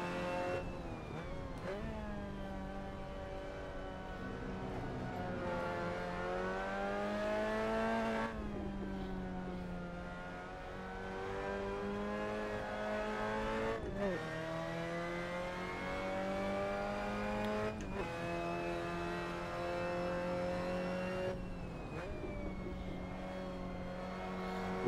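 MX-5 Cup race car engine in the RaceRoom sim racing game at Okayama, revving hard and loud throughout, its pitch climbing steadily and then dropping sharply at several gear shifts before rising again.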